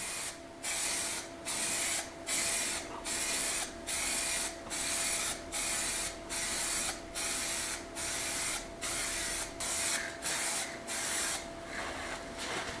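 Rhythmic bursts of a spray gun coating a part in a dim paint shop, each hiss lasting under a second with short gaps, steady and close with a faint background hum.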